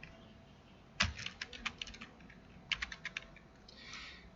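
Coordinates being typed on a computer keyboard while working in dam flow calculation software: two quick bursts of close, crisp keystrokes separated by a short pause, with no talking.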